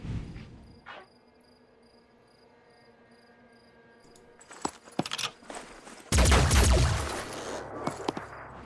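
Gunfire from a weapon in Phoenix Point erupts in a loud, dense burst late on, preceded by a few sharp shots over a quiet background hum.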